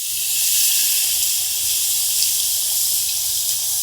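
Tamarind juice pours into a cooking pot of spiced fish curry, a steady close hiss and sizzle of liquid hitting the hot masala that holds evenly for several seconds.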